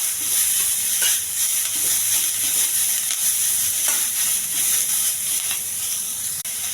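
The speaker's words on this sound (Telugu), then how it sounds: "ఉల్లిపాయ, పచ్చిమిర్చి, కొంచెం దోరగా వేయించాలి." Onions and green chilies fry in a hot pan with a steady sizzle and hiss, broken by stirring scrapes and clicks throughout, close and alone with no talk.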